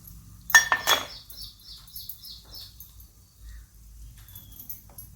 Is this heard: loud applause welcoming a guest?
no